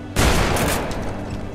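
Shotgun fired in the video game Deadlight, a single loud blast that hits sharply and decays over about a second.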